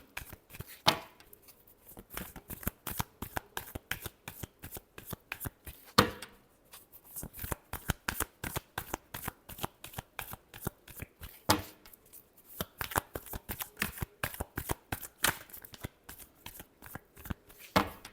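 Tarot cards being shuffled by hand in a steady run of crisp riffling snaps, close and fairly loud, pausing briefly twice before resuming; no talk.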